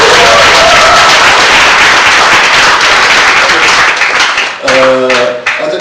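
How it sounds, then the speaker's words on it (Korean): Sustained applause from a live audience at a book launch event honoring a musical actress, loud and dense, thinning out near the end as scattered claps and a brief tonal sound cut through. "다시 한번 박수를 보냅니다"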